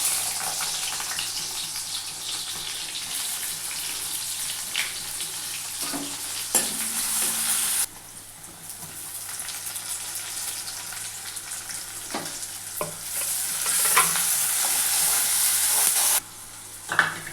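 Tomato and onion frying in oil in a pan, a dense, steady sizzle that runs throughout with a brief quieter dip midway and occasional stirring clinks, close and loud.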